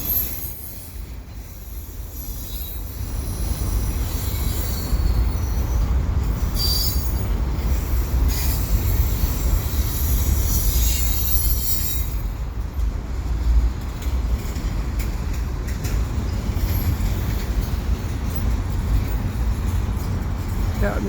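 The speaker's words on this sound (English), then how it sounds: "there's the end of the train right there" A long freight train rolls steadily past close by, its wheels squealing loudly and continuously against the rails for the whole stretch, with a faint rumble underneath.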